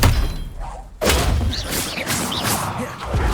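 Expelliarmus spell impact in Hogwarts Legacy: one heavy thud hits after a quiet moment, followed by a whooshing magical shimmer and scattered bright chirping effects that stay loud throughout.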